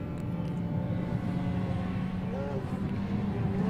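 A modified 1050cc Mini race car driving at speed during a circuit race. The engine gives a continuous buzzing drone with a brief rising pitch sweep partway through, steady and fairly loud from start to finish.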